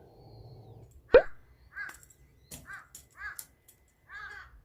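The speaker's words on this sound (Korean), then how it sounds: "까마귀 가만히 좀 있으라" Several harsh crow caws come in short bursts with pauses between, fairly close, after a sharp knock near the start.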